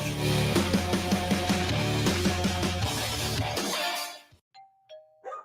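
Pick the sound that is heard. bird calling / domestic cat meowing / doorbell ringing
doorbell ringing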